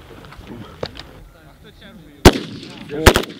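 Loud gunshots nearby at night on a military firing range: one sharp crack followed after a pause by a quick pair, with faint murmuring and rustling in between.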